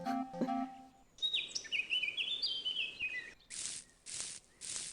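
Cartoonish birds chirp in the children's video game Adibou 2, a rapid run of descending tweets followed by three short bright chirps, after a brief musical jingle, all clear and close with no talking.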